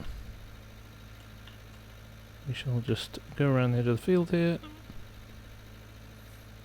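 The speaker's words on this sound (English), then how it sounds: "this tractor's not got masses of horsepower, and we're on a hill here, so it's kind of grinding along at just 4 miles an hour" A modest-powered tractor pulling a mower uphill across a field in Farming Simulator 19 makes a steady, low, grinding engine drone under a voice, carrying on through the pauses in his talk.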